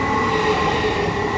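A double-headed Class 395 high-speed train passes at Ebbsfleet International on HS1, a steady loud rumble and hum of the moving units with a faint high whine, no voices.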